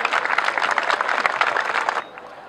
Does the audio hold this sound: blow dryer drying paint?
no